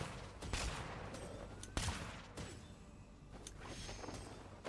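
Rapid bursts of gunfire from shooting while flying in Genshin Impact, a spread of sharp cracks and thuds with whooshing in between, fairly faint and continuous over a few seconds.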